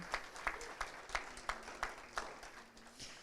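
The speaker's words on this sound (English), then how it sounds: "So let's give Brittany another round of applause." Faint applause from a small audience at a church Sunday school session, a loose patter of claps that stays quiet and even for a few seconds.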